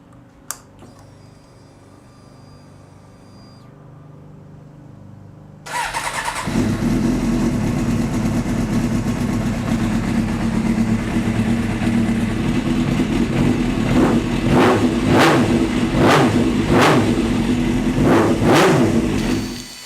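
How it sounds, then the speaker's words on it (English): A Suzuki GSXR 600 motorcycle cranks and fires up after a spark plug replacement, settling into a loud, steady idle, then blips the throttle in several sharp revs toward the end, heard up close. "With everything installed back onto the bike, it's now time to start it up."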